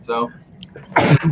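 A single close, loud sneeze bursts out near the end of a brief moment, preceded by a short spoken word.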